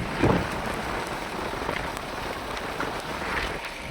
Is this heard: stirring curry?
no